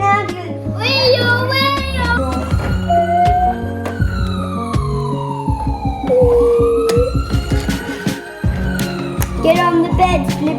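A toy ambulance sounds a wavering electronic siren that rises and falls over bright, busy toy music and chimes, loud and close.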